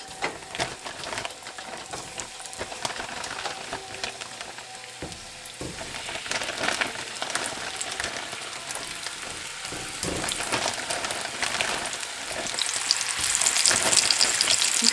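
Stew meat and vegetables brown in a hot pan, giving a steady crackling sizzle that grows denser and louder over about fifteen seconds, with some light stirring and no talk.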